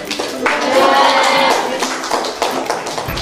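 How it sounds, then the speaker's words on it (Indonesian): Applause in a classroom for a group of students, loud, dense clapping from many hands lasting about two seconds, then tapering into scattered claps and murmuring. "Tepuk tangan untuk kelompok gue."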